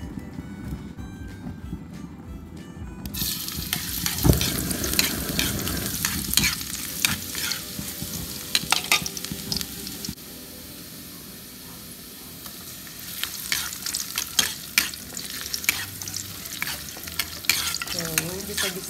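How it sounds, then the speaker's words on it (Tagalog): Garlic and onion frying in lightly heated cooking oil for a pancit canton dish, a steady close sizzle with repeated stirring scrapes in the pan. "ilalagay na natin yung bawang and sibuyas. Painitin lang ng very light yung mantika."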